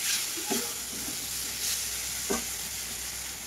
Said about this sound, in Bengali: মশলার সাথে একটু আলুটা আর মটরটাকে কষিয়ে নেবো